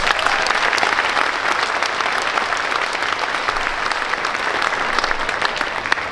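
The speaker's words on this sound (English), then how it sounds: "can we give them a round of applause?" Steady, dense audience applause fills a school gym or auditorium during a 6th-12th grade band Christmas concert, many hands clapping continuously and loudly with no talk over it.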